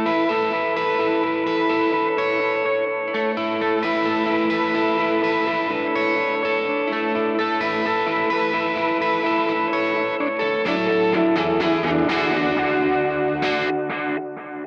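An electric guitar played through a Strymon Iridium amp modeler with delay and reverb placed after the amp, sustained chords and notes smearing into a lush, washy tail, steady and fairly loud for about fifteen seconds with no talk.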